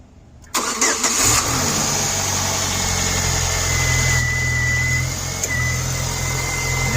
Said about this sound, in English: this new fan's a lot quieter than the old fan